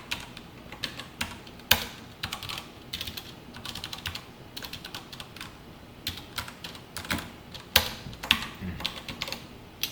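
Quick bursts of keystrokes on a computer keyboard while code is typed, close and fairly quiet, with irregular clusters of clicks and short pauses between words.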